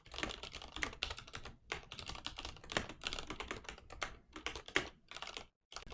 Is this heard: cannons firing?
no